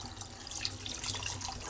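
Water pours steadily into a pot of sambar, a continuous splashing gush running for nearly two seconds with no talk.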